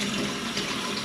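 Cold water running steadily from a tap, a continuous broadband splashing rush, fairly loud and close, with no talk.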